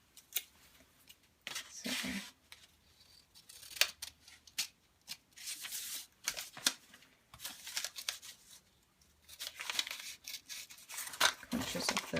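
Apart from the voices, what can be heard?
scissors cutting paper flaps for an origami bow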